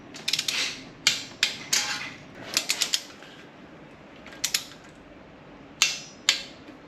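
A torque wrench tightens header bolts on a Honda Civic, giving crisp, close metallic clicks that come in quick clusters and single snaps, with short pauses between bolts.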